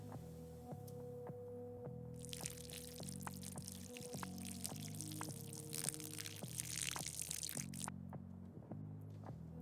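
In the video game Schedule I, a watering can pours water onto plants in a steady splashing stream lasting several seconds, set against looping background music.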